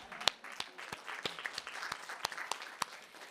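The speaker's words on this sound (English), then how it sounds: "I think we should all give a round of applause" A small audience at a conference workshop claps for a few seconds, sparse individual hand claps standing out over a thin, fairly quiet spread of applause with no one talking.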